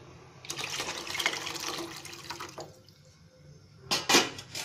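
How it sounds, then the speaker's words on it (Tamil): Tamarind water poured into a rasam pot, a moderate running pour with splashing for a couple of seconds, a quieter pause, then a short louder splash at the end. "அதோட இந்த புளி தண்ணியும் ஊற்றிடுங்க"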